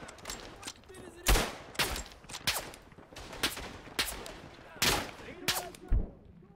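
Scattered rifle shots and bursts of machine-gun fire crack at varying distances across a World War I battlefield in the first-person shooter Tannenberg, with several sharp loud reports standing out among fainter distant firing.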